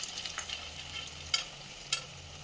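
Bitter gourd pieces fry in hot oil with a steady, soft sizzle, broken by a couple of brief stirring clicks from a spoon against the pan.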